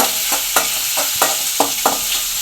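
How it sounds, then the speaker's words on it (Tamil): Curry leaves sautéing in a hot pan, with a steady loud sizzle broken by about six regular spatula strokes scraping and tossing close by. "இதுக்கு தேவையான கருவேப்பிலை, நல்லா வதக்கிட்டுக்குவோம்."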